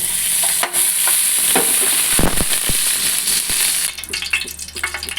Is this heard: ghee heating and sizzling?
yes